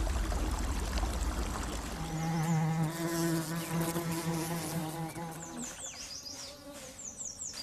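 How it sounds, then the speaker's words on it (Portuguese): Japanese honeybees in a forest hive buzz loudly and close, several overlapping wingbeat drones rising and falling, then thinning to lighter flickering buzzes toward the end. "Abelhas japonesas."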